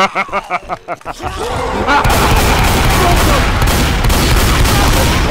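Gunfire in the video game Left 4 Dead 2 opens with a quick burst of rapid, evenly spaced loud shots, then gives way to dense continuous firing and chaotic noise.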